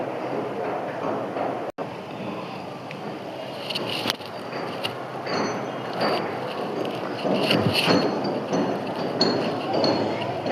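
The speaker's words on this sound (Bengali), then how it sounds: "আমাদের এই যে পাশে কনস্ট্রাকশনের কাজ চলতেছে, যার কারণে অনেক বেশি শব্দ হচ্ছে।" Construction work runs next door, a constant rumbling clatter with scattered metallic clinks and bangs, heard from indoors with some faint talking.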